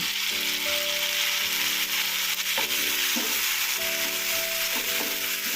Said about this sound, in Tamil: நல்லா வணங்கணுங்க, பச்சை வாசம் போகிற வரைக்கும் நல்லா வணங்கணும்.